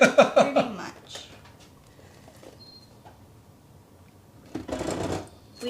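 A sewing machine stitches one small seam on a Witcher cosplay costume piece, sounding as a short, close, buzzing burst of rapid stitching near the end. Quiet comes before it, and a few loud rhythmic pulses open the clip.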